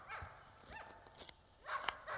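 Dogs bark outdoors at an off-grid homestead: three or four sharp, fairly close barks in short bursts, with quieter stretches between them.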